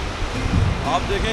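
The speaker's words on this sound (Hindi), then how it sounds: "और ये ठाठे मारता हुआ दरियाए सिंध का पानी आप देखें" Turbulent water of the Indus River roars in a steady broadband rush, close and loud throughout, with faint tonal sounds flickering over it.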